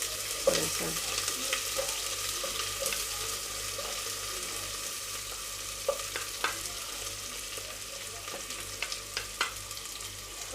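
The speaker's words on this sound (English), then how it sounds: "We keep on stirring until the onions turn to golden brown" Onions and garlic sizzle steadily in hot oil during Ugandan-style bean preparation, with a constant close frying hiss and scattered scraping knocks of a stirring spoon against the pan.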